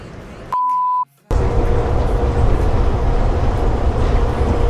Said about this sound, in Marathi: ट्रेन टू गेट B लेफ्टला येते, ट्रेन टू गेट A आणि C राईटला येते.